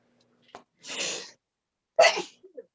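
Two sneezes, the second sharper and louder, each a burst of breathy noise, followed by a couple of small sniffles; close and otherwise quiet.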